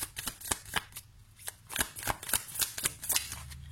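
Oracle cards shuffled and drawn by hand, giving a run of crisp riffling and slapping card sounds in an irregular rhythm, close and clear with no talk.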